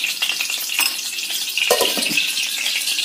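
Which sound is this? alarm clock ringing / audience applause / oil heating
oil heating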